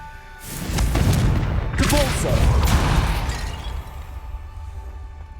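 Confringo fire-spell explosions in the PC game Hogwarts Legacy: a deep, booming blast swells and rolls on with crackling rumble for a few seconds, with a voice briefly audible amid it, then fades to a low hum.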